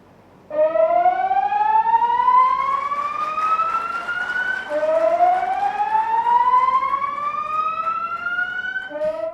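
A loud wailing disaster warning siren in Kerala rises slowly in pitch, cuts off, then winds up again, sounding alone in open air.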